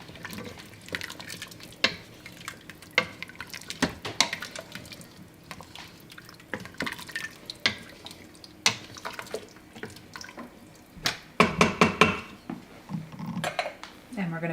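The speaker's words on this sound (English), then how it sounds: "And give it a stir." Potatoes being stirred into Irish stew in an Instant Pot, with scattered clinks and scrapes of a utensil against the metal pot and some wet sloshing, moderately close, and a voice talking intermittently.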